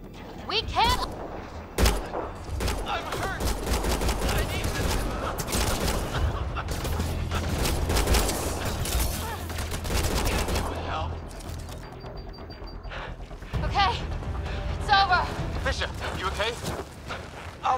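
Sustained gunfire from a firefight in the sci-fi shooter Mass Effect Andromeda, with dense bursts of rapid shots and heavy thuds that run loud for most of the clip, ease off briefly, then resume, with voices shouting underneath.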